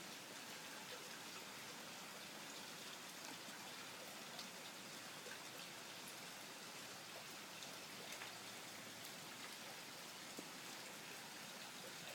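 Heavy rain falls after a thunderstorm as a soft, even hiss of drops pattering on surfaces, steady and unbroken for the whole stretch with no voices.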